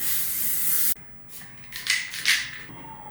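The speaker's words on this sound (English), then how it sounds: "she doesn't really lock her makeup in with any setting spray, but I'm going to do just that" A long hiss of makeup setting spray for about a second, then a few shorter rubbing and spritzing sounds close to the microphone.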